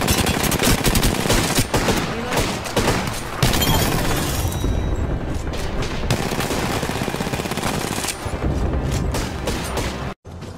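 Sustained rapid automatic gunfire from the Apex Legends video game, loud and dense with overlapping bursts and booms running almost continuously before a brief cut near the end.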